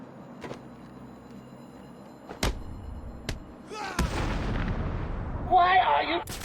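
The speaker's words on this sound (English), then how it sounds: "First, I have to dodge his snipers" Sniper gunfire in the video game Batman: Arkham City, several sharp shots cracking out at uneven intervals over low ambient game sound, with a heavier burst and a rising hiss near the end.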